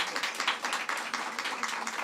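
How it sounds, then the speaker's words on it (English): A crowd applauds Assembly member Latrice Walker at a gathering on gun violence, a steady, close burst of clapping with irregular surges throughout the short stretch. "Let's give her a round of applause."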